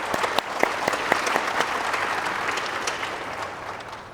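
Lively crowd applause for new graduates at a 60th anniversary celebration, with sharp individual claps standing out early before settling into a dense, even ovation.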